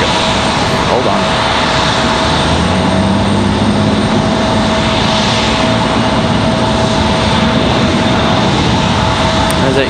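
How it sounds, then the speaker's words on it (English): A United Express airliner taxiing at Raleigh-Durham International Airport, a loud steady engine roar and whine filling the whole stretch, close and continuous, with a voice talking faintly underneath. "As that United Express is on the move, you guys can probably hear."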